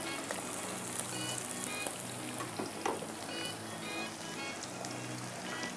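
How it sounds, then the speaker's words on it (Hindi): Chopped onion frying in oil for desi-style kebabs gives a steady, close sizzle and crackle with light stirring, continuous and even throughout, with no talking. "प्याज जो फ्राई हो रहा है ना, मुझे चाहिए कबाब के लिए, इसलिए मैं पहले से इसको फ्राई कर रही हूँ"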